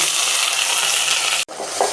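Chopped onions with dried red chillies and crushed garlic sizzle loudly in a hot pan while being stirred, a continuous frying crackle that briefly cuts out near the end.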